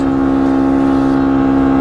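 Yamaha TW200 motorcycle exhaust idling with a slight rev, a close, loud, steady engine drone with strong even tone and no talk.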